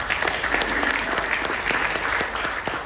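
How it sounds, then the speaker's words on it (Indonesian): Steady audience applause at a talk by Ade Rai, sustained clapping throughout with a few louder individual claps standing out. "Tepuk tangan dulu dong."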